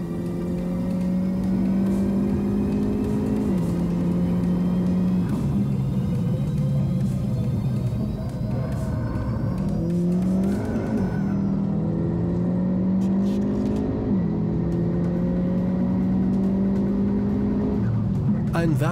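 Tuned Hyundai i30 N making about 450 hp, heard on board during a fast track lap: a loud, continuous engine drone that climbs through the revs with repeated gear-change dips.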